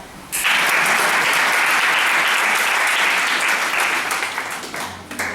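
An audience at a dance performance bursts into loud, dense applause that starts suddenly and holds steady before tapering off near the end.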